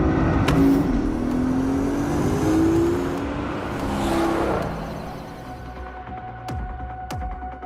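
Porsche sports car engine in the game Resident Evil Requiem, revving loudly with rising and falling throbbing tones, then easing down to a quieter idle with a few sharp clicks toward the end.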